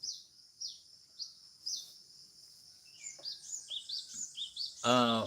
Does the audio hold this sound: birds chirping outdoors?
yes